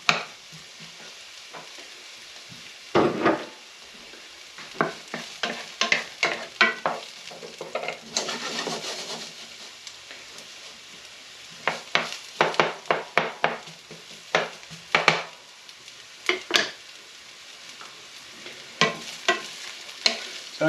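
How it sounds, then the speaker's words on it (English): Onions and green pepper sizzle steadily in a pan, softening for enchiladas, with repeated bursts of stirring and utensil scrapes against the pan, close and moderately loud, no talking. "onions and the green pepper. We're going to cook these down for about 5 to 6 minutes."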